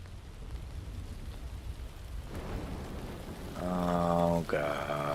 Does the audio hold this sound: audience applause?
no